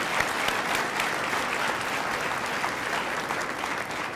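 A luncheon crowd honoring girls and women in sports claps in a steady, dense wash of applause that holds evenly from start to finish, with no voices on top.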